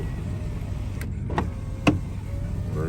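Power window motor on a 1989 Toyota FJ62 Land Cruiser running slowly in cold weather, a close whirring hum under steady vehicle noise with a couple of brief clicks and thumps.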